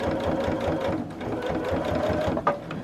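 A sewing machine stitches a folded fabric table topper with a fast, steady mechanical rattle, close and continuous, with a faint voice underneath.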